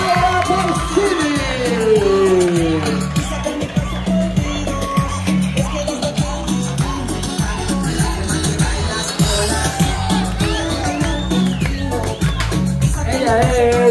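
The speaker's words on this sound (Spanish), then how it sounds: "con un aplauso muy especial recibimos a nuestra modelo desde Italia, Laura Porcini." A live show audience welcomes an Italian model with loud continuous cheering, whoops and yells, a dense crowd roar holding strong throughout, with shouting voices mixed in.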